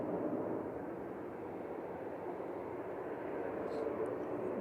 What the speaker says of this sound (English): Norwegian taxiing out.